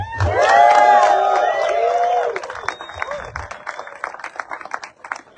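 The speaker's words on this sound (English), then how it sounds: "Let's give them a round of applause." A crowd at the 2025 Tampa Frogman Swim applauds Gold Star families. A loud whoop and cheering come first, then dense clapping that carries on and slowly thins.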